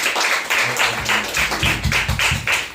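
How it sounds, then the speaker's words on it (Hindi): A church congregation at a Wednesday service claps loudly and steadily, dense hand claps forming a sustained roar with a few sharper rhythmic beats near the end, with low drum or music thumps underneath. "जोरदार ताली बजाइए परमेश्वर के लिए"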